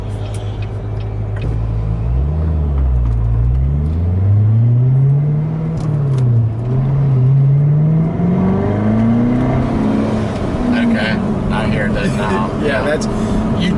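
A Procharged, supercharged C7 Corvette Stingray Z51 engine revs up and down in a loud, close, rising and falling drone, followed by a hissy rush as the bypass valve vents, with people talking over it.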